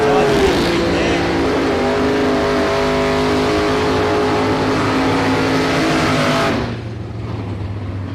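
A drag racing car at a street challenge makes a loud sustained engine roar that climbs in pitch, then cuts off sharply near the end, leaving a lower idle.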